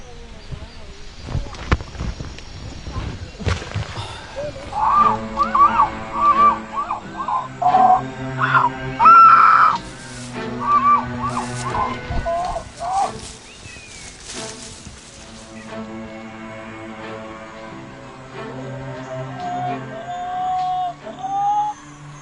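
Amazon tribesmen voice imitations of a monkey call, repeated pitched whooping cries in short bursts, fairly close and loud, with rustling and other voices in the forest around them.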